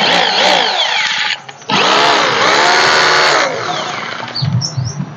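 A rotary hammer drill switched to hammer-only mode with no rotation, running loud and close in two long bursts with a brief pause between them, then easing off toward the end.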